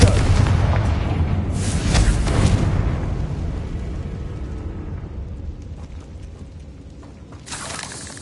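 The Confringo blasting spell is cast in a Harry Potter video game, loud booming explosions with rumbling debris, a big burst near the start, another around two seconds and a final blast near the end.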